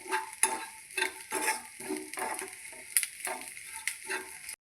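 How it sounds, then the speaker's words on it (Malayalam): Washed prawns frying and being stirred in a pan while making homemade chammanthi podi, a close, steady sizzle broken by repeated scraping stirs and light clinks of the utensil against the pan, with no talking. "ചെമ്മീൻ കഴുകി നന്നായി വറുത്തെടുക്കുന്നുണ്ട്"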